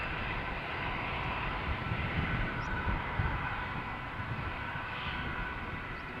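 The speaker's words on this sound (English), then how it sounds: "next up is going to be a British Airways Airbus by the looks of it" British Airways Airbus jet at Amsterdam Schiphol runway 36L, a broad, steady distant engine roar with a low rumbling rush that stays even throughout.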